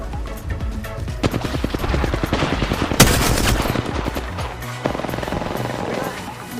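Rapid bursts of automatic gunfire from Apex Legends ring out loud and close, dense rattling volleys with one sharp louder shot in the middle and more firing toward the end.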